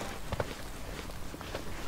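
Footsteps of the player character in the horror game Cry of Fear, a few soft, close thuds spaced unevenly over a steady low background hiss.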